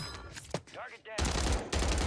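H4 Blixen and EM2 gunfire in the Warzone video game, heard as loud close bursts of rapid shots in two bunches after a brief stretch of other game sounds and voice.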